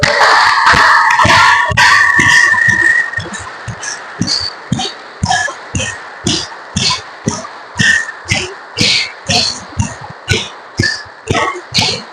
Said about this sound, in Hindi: कुछ क्षण ताली बजाएं पूरी ताकत से।